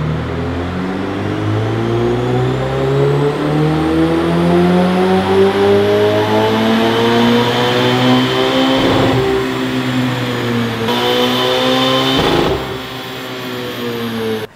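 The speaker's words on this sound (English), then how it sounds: "Fabspeed put their Ferrari Pista on the dyno." A Ferrari 488 Pista supercar runs hard on a chassis dyno, its engine note climbing steadily through the revs as a loud, continuous wail, with a brief shift and a final pull before cutting off.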